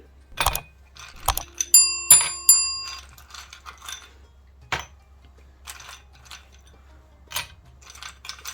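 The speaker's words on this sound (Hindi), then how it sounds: "तब इसमें आइस क्यूब डालूंगी।" Ice cubes dropped into two identical glasses while making dalgona coffee: a few sharp clinks with bright ringing glass tones close by, followed by scattered lighter taps and knocks.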